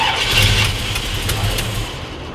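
A barn-find 1979 Pontiac Trans Am engine cranks and catches, sprayed with starting fluid, giving a loud close burst of engine noise that settles into a rough idle.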